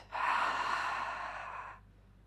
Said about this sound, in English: We'll finish by taking a deep breath in and an audible breath out.